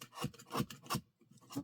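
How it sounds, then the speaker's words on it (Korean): A knife shaving the tip of a crayon: a rapid series of short, dry rasping scrapes, close and fairly quiet, in uneven strokes with a brief pause between them. "이거 칼로 깎아야 돼요."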